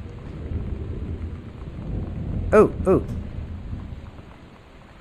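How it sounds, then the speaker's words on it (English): A thunderstorm in Gone Home, low rolling thunder and steady rain in the background, while a man briefly exclaims twice midway. "I am not liking that storm."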